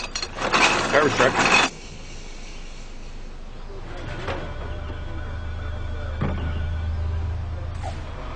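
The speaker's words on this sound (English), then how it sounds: "Garbage truck." A garbage truck works nearby: a loud mechanical whine and clatter opens briefly, then settles into a steady low engine rumble with faint occasional clunks.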